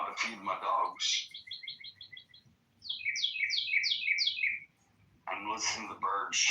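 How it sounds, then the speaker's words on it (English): Birds chirp outdoors in quick trilled series of high notes, fairly close and clear, between stretches of someone talking at the start and end. "I'm listening to the birds chirp in the background."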